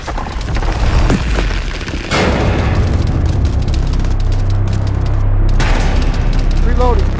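Gunfire from Marine Raider predeployment training with the 4th Marine Raider Battalion: loud, dense bursts of shots and heavy booms roll continuously, with sharp reports cutting through a constant roar and voices faintly present.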